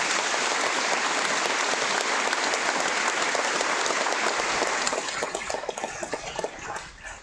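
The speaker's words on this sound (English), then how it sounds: "Can we give them a big round of applause?" A large crowd at a school graduation ceremony applauds loudly and steadily, the clapping thinning out over the final couple of seconds.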